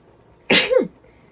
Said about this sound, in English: those are like the most normal sneezes I've ever had